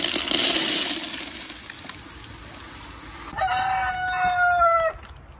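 Chickens on a poultry breeding farm make a steady rustling din with scattered clucks, then a rooster crows one loud, drawn-out call near the end.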